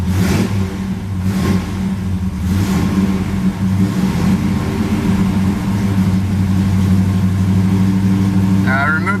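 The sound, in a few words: Camaro engine running rough, not firing all cylinders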